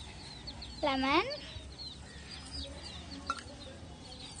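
Chickens raised for chicks give one loud, near cluck-call near the start, followed by softer scattered clucks and faint background chatter, with a brief spoken word.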